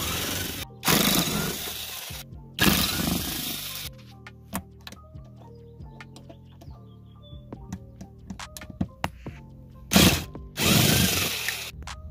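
A power driver whirs in short, loud bursts as screws come out of the center console of a Honda Prelude, with clicks and small metallic taps in between.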